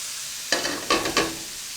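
A spoon stirs food in a pan during home cooking, giving three short scraping, sizzling bursts close by with quiet gaps between them and no talking.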